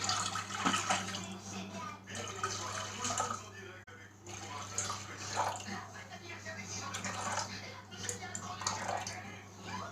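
Water is poured into a bowl on a kitchen scale, 500 g of it, a continuous splashing trickle running for several seconds while a person speaks over it.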